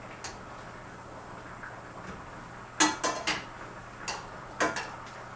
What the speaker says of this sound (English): Right now, I can just flip them over.